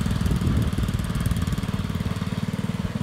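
A small engine with a freshly cleaned carburetor runs close by in a steady, rhythmic low putter. The engine note stays even throughout, with a slightly rougher, louder stretch at the start.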